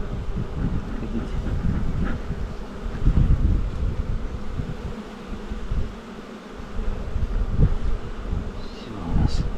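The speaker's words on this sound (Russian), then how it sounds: "Пчелки гудят" Honeybees humming around an opened hive on a warm day, a steady low drone that swells and dips over several seconds, no talking over it.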